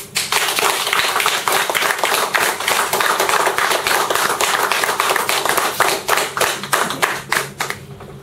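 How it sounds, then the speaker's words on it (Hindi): Loud audience clapping at a sales and motivation training session, a dense, sustained burst of many hands filling the room for several seconds before thinning slightly at the end. "कैसे करेंगे? एक जोरदार तालियों के साथ।"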